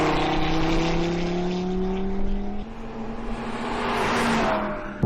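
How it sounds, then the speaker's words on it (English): An Audi TT RS coupe accelerates hard on a racetrack, its engine note climbing steadily, dropping at a gear change, then rising again up close. "driving this coupe here on the racetrack is a completely different game"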